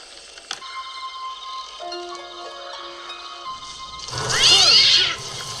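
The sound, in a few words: cat jumping out in Pet Sematary film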